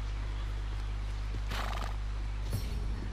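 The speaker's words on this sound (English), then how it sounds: "This is a horse I caught just before." A wild standardbred horse in Red Dead Redemption 2 gives a whinny over a steady low hum, followed by a short hoof clop, close and moderately loud.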